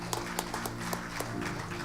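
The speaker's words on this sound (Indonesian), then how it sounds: "Mari kita tepuk tangan buat Tuhan." Church congregation clapping hands together at an online worship service, a few sharp claps close by over a steady sustained instrumental tone, brief and moderately quiet.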